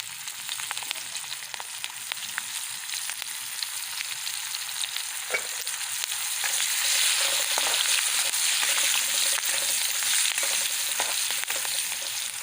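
Ginger pieces, garlic cloves, a pinch of asafoetida and chunks of chili sauté in hot oil in a pan over a wood-fired stove. A steady, close crackling sizzle runs throughout with no voices, growing slightly louder and denser in the second half.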